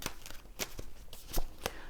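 Tarot cards are shuffled by hand in a few quick, crisp bursts of flicking and clacking, close and fairly soft, with no voices.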